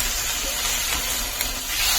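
Tomatoes and green chillies drop into a hot pan of softened onions, giving a steady, loud broadband sizzle and hiss that holds evenly throughout with no talking.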